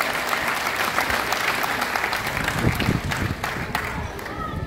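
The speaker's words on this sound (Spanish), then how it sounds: "Fuerte el aplauso, mi Evelyn," Lively applause from a crowd at a Christmas food-basket handout in Tierra Blanca continues steadily, with voices mixed into the clapping.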